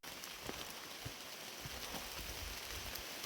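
Steady rain falls on the Appalachian Trail, a dense, continuous hiss of drops on leaves and ground with scattered louder pattering, close and even throughout, with no talk.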